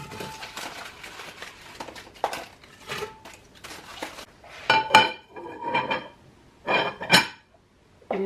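A Wexford glass candy dish set onto a wooden pantry hutch shelf, giving a few sharp glassy clinks and knocks amid soft handling rustles, close and fairly loud.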